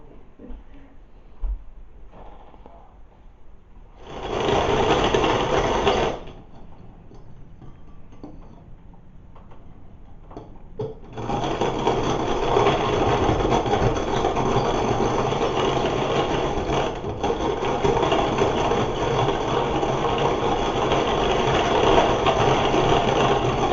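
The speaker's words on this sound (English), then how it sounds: "I love my rotary egg beater. You can definitely get the whites really frothy with it." A hand-cranked rotary egg beater whips egg whites to a froth for Victorian waffles, a steady whirring, ticking rattle that starts in a short burst, pauses, then runs continuously and fairly loud.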